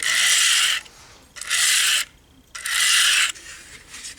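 Three long rasping strokes of a knife across a 400-grit diamond sharpening stone, with short pauses between them, then a fourth quieter stroke; close and steady.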